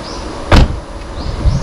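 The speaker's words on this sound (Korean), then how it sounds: "문을 닫으시면" The frameless door of a Mercedes-AMG GT43 4-Door shuts with a single solid thud, followed by a faint whir as the lowered window glass rises back into place, heard up close.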